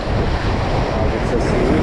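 Strong sea waves rushing and churning in bad weather, a loud constant roar mixed with heavy wind buffeting the microphone, with no clear voices.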